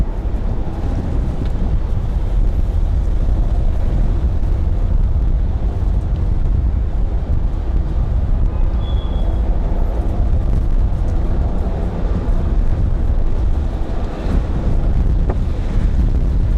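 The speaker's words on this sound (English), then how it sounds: "that wind is whipping right now" Strong wind buffets the microphone at Raleigh Durham International Airport after a storm, a constant loud roaring rush with low gusty rumble and faint distant airport noise, no talking.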